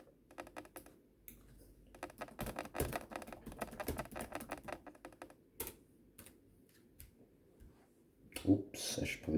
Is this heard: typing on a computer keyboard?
yes